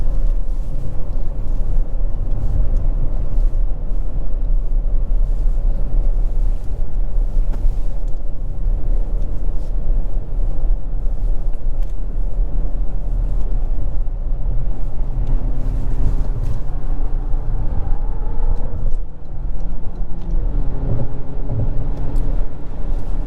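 Steady low road rumble and tire noise fill the cabin of a 2023 Toyota bZ4X XLE AWD electric SUV cruising at highway speed, with a faint rising whine late on and no talk.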